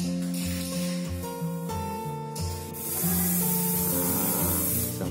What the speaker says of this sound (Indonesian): Nah, semprot di bagian malnya,